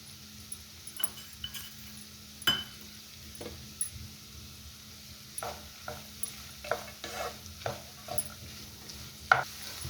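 Beetroot stir-frying in a pan with curry leaves and garlic, a soft steady sizzle with intermittent spoon scrapes and clinks against the pan, fairly quiet and close.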